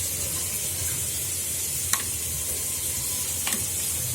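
Hilsa fish pieces fry in a pan with spices and green chillies, a continuous bright sizzle close by, with a couple of sharp pops and spatters as the oil crackles.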